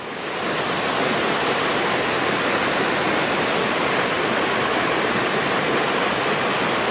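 Dense, steady roar of a waterfall, loud and close, filling the whole stretch without pause or voices.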